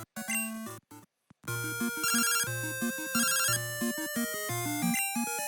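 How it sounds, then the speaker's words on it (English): Chiptune phone ringtone in the Game Boy Color game Pokemon Crystal, a bright square-wave melody repeating in short bursts with brief gaps, played over the game's background music and not spoken over. "And we get a phone call."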